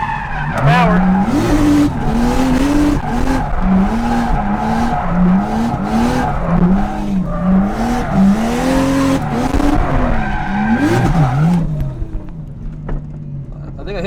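A Toyota JZX100 drifting at night, its engine revving and dipping continuously while the tires squeal and skid through long slides, loud and close for most of the stretch before easing off near the end.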